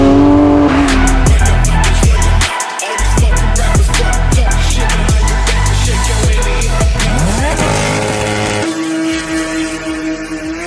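A Porsche 992 GT3 driving on a track, its engine loud and close, with rising and falling revs and sharp gear changes under a constant roar and no talk.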